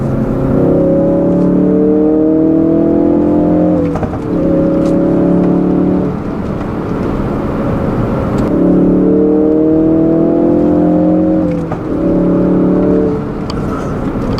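A 2016 Ford Focus RS engine revs hard toward redline in third gear, its loud rising drone climbing steadily in pitch. It cuts briefly at each shift and climbs again in repeated pulls, heard from inside the car without voices.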